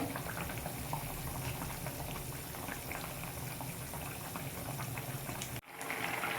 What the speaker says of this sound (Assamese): মোৰ আঞ্জা পুৰা উতলি আছে।